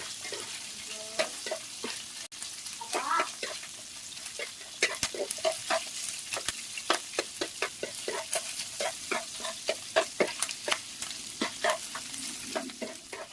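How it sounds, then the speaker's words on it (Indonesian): Eel stir-fries in hot margarine, a constant crackling sizzle broken by frequent sharp clicks and scrapes of the utensil against the pan as the pieces are tossed. "Kita goreng sekitar 1-2 menit dengan margarin panas ya. Jadi main aduk-aduk aja ya, biar meresap."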